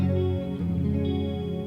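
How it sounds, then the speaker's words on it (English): An electric guitar played through an effects preset drenched in reverb rings out with sustained, shimmering chords that wash into a long, washy tail at moderate volume. "A little bit too much reverb on that one."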